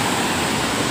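The Alkudar waterfall roars as a dense, steady rush of falling water, loud and unbroken for the brief moment with nothing else standing out.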